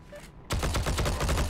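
Rapid gunfire erupts after a quiet moment in the Heroes and Generals shooter, a close burst of repeated shots following a headshot.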